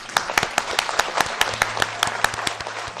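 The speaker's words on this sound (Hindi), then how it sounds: "तो उसके लिए तालियां" Studio audience claps for a song performance at the 58th PTV anniversary show, in distinct, rhythmic near hand claps over a low steady hum, with a voice briefly present underneath.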